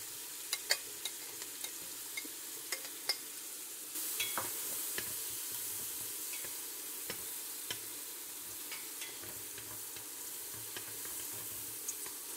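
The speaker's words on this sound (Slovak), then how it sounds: "na výpeku orestujem do sklovita nakrájanú cibuľu" Chopped onion sautés in pork shoulder drippings, hissing steadily in the pot while sharp scrapes and knocks from stirring punctuate it, growing slightly louder partway through.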